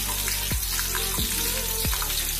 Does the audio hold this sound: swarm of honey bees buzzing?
no